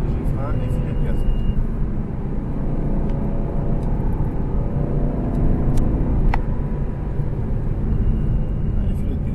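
An Aston Martin engine runs steadily on light throttle, a continuous low rumble that sits close and fairly loud from start to finish, with people talking over it.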